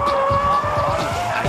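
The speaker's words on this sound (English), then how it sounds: "we'll ignore that to show you guys this dynamic drifting" A car drifting through a corner on a race track, its tail sliding with steady loud tire squeal, two sustained whining tones over the engine's low rumble, close up and alone.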